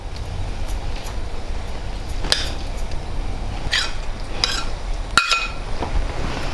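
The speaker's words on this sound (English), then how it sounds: "While I stir it up." A spoon stirring fresh coconut into jaggery ladoo mixture, with a few sparse clinks and scrapes over a steady low background hum.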